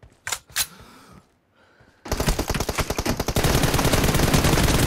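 Gunfire in PUBG Mobile, team deathmatch: a couple of sharp single shots, then a short lull, followed by loud, sustained rapid automatic rifle bursts that grow denser and more continuous toward the end.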